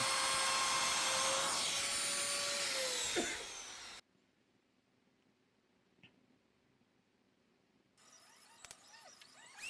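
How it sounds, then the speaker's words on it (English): A loud power router with a 45-degree bit whines steadily while cutting into a wooden table edge, then cuts out abruptly into near silence, followed by faint scraping and handling noises. "So what I'm using here is a 45-degree router bit."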